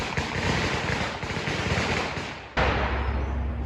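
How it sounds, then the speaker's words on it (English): Fireworks go off nearby over the Fourth of July weekend in a rapid crackling volley, then one sudden loud boom, all without talking. "It's the 4th of July, weekend after 4th of July, and everyone's shooting fireworks."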